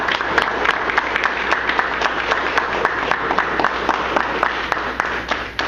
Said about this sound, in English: I think it's appropriate to ask for applause